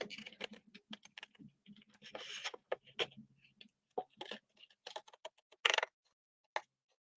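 Paper card for a tiered star card is trimmed with a blade in a string of short, quiet clicks and snips, close by with pauses between cuts.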